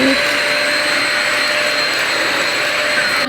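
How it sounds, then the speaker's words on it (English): A vacuum cleaner runs loudly and steadily in a backyard setting, a continuous high motor whine with rushing air that holds level and cuts off at the end. "maybe if I vacuum it, it'll like fluff up and look nicer"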